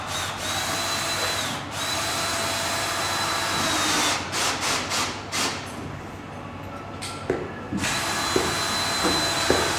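A power drill drives screws into the centre of a door lining, with whirring bursts that start and stop in several short runs, loud and close, and brief pauses between them.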